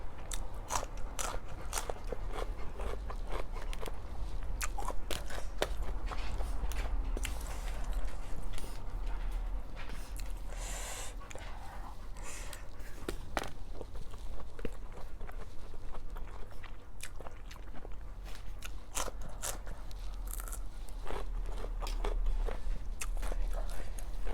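Crunchy biting and chewing while eating a Thai basil stir-fry rice bento, with repeated soft crunches and mouth sounds close to the microphone, steady throughout at a low level.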